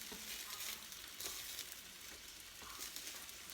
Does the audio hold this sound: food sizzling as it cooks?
yes